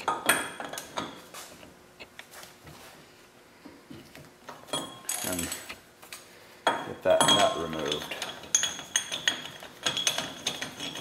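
A steel axle nut socket being picked up and handled while servicing the front wheel bearing of a 100 Series Land Cruiser, giving repeated close metallic clinks and clanks in irregular bursts, with brief quiet gaps between handling sounds.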